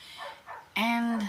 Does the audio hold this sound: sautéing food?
no